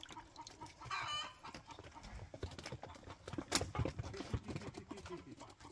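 Chickens clucking close by in a rural outdoor setting, a series of short irregular clucks with a few louder squawks and scuffling, under steady background noise.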